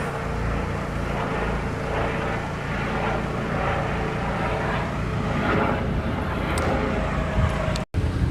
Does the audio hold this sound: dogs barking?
no